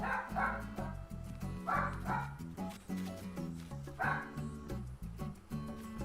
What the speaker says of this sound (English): there are 3 dogs in this house, and they only wait till I'm on stream to bark